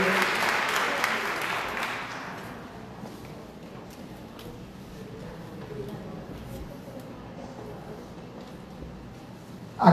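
Loud applause from a church congregation during a Sunday Mass, strong clapping for the first two seconds that quickly thins into scattered claps and room murmur, ending with a sharp knock.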